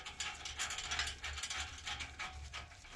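A ratchet spins a bolt down during exhaust installation on a 2018 Harley-Davidson Sport Glide FLSB, a steady run of close, rapid metallic clicks lasting a few seconds with no talking.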